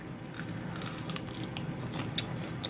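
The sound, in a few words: biting into crunchy breaded chicken wing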